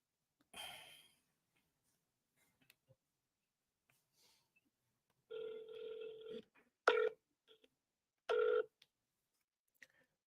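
An outgoing telephone call rings on the line, a few short, quiet ringback bursts separated by silence, with faint breathing and small clicks between them.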